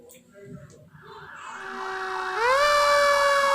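A fire truck siren starts low and swells in loudness, its wailing tone rising and sliding upward until it blares steadily at the end, with no talk over it.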